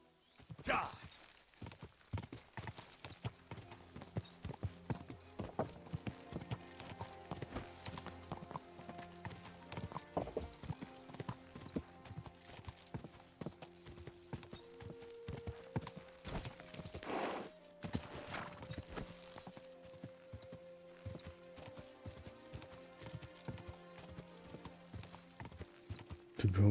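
Horse hooves clip-clop steadily in a medieval Bohemia video game, a continuous rhythmic gait over background music, with occasional louder thuds.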